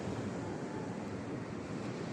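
Sea waves at San Sebastian beach in Ilocos Sur, a steady broadband wash of surf mixed with wind noise on the microphone, continuous and fairly close throughout.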